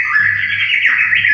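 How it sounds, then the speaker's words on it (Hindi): A white-rumped shama's call plays from an automatic sound display at Yercaud hill station, a loud, clear, sustained whistling chirp with slight pitch bends, heard on its own. "ये उसकी आवाज़ है श्यामा की।"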